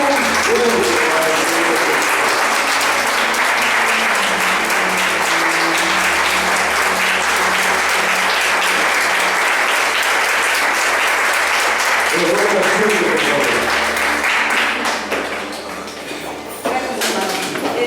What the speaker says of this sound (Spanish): ofrecer al Señor una ofrenda de aplauso fuerte. Pero fuerte